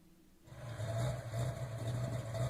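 A Ford Mustang's 302 V8 with a Trick Flow Stage 2 cam fires up and settles into a loud, close, choppy idle with an uneven lope.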